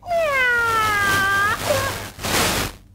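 A person imitates a cat with a loud, drawn-out, wavering meow that slides in pitch, followed by a short breathy tail sound.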